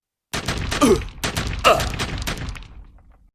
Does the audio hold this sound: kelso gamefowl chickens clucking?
no